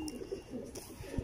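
A Teddy-breed pigeon, an old bird of about fourteen or fifteen years, gives a few soft, low, rolling coos, close by and brief, with no talk.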